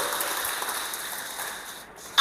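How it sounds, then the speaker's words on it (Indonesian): Applause from the congregation at a church youth service, a steady wash of clapping sustained throughout and cutting off abruptly at the end. "Boleh berikan tepukan tangan yang meriah biar tambah semangat."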